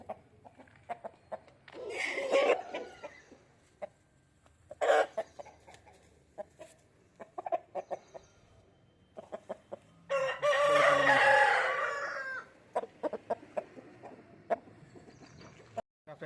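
Native country roosters cluck repeatedly and crow loudly, with several long crows standing out among short, irregular clucks close by.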